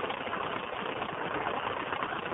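WWII-era airplane engine idling on the ground before taxiing, a steady, continuous rumbling drone heard alone at an even level throughout.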